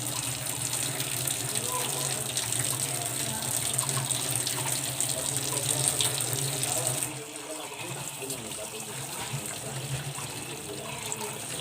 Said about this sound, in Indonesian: kita melakukan cuci tangan menggunakan air mengalir dan sabun